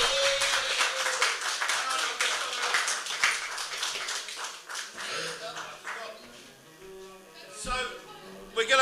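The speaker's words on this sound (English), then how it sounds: "give all 5 of them the biggest round of applause you possibly can" Applause from an event audience for five performers, with dense clapping that thins out midway, then scattered voices and a few isolated claps near the end.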